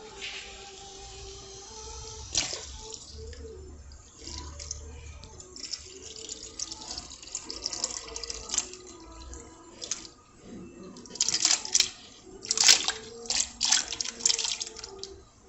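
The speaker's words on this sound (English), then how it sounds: "I'm going to be pouring the pig ears and its cold water into the pot." Pig ears and cold water poured slowly into a cooking pot, a running splashing trickle with clinks and irregular bursts that grow louder toward the end, with no talking.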